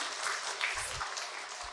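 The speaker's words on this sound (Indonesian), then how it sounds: "Tepuk tangan sekali lagi untuk Bunda Arsaningsih" Audience applause at a Tata Hati roadshow seminar, a steady wash of many hands clapping close by that fills the whole stretch without a break.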